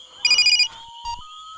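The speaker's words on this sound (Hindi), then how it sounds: "तेरा फोन है।" A phone rings with a short, bright electronic ringtone burst, loud and close, followed by a brief fainter chirp in an otherwise quiet room.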